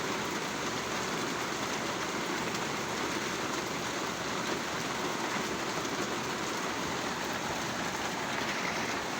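Heavy rain pours steadily on surfaces outside a flooded yard, a dense, unbroken hiss and patter filling the whole stretch with no voices.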